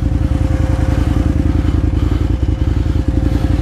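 KTM 950 motorcycle engine held at gentle throttle while riding through water, a loud close steady thumping drone with a regular low pulse and occasional splashy clatter.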